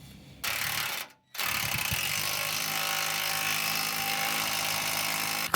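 A ratchet wrench tightens the inner bolts on an aftermarket Airlift bumper being fitted to a Humvee, heard as a steady, close, mechanical clicking and whirring that runs almost the whole time, broken by one short gap near the start.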